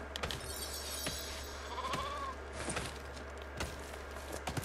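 A single sheep bleats once in the Fortnite Lego video game, a short, quiet wavering call over low background game ambience and a few sharp clicks.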